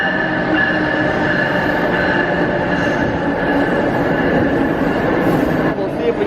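An Amtrak passenger train rumbles steadily in a dense, continuous roar with faint rail squeal, heard from on board or right beside it at a Wallingford, Connecticut station.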